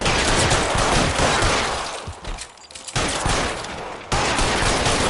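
Heavy, continuous gunfire erupting in a 1940s Los Angeles shootout in L.A. Noire, loud and close with rapid overlapping shots, briefly dropping off midway before resuming at full intensity.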